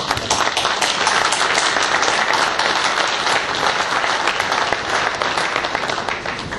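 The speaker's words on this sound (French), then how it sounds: "je crois qu'on peut les applaudir" Sustained audience applause at a company site inauguration in France, a dense, loud crowd of clapping hands that stays steady for several seconds and thins slightly near the end.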